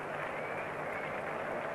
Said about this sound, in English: Acknowledging the applause from the crowd and from his teammates.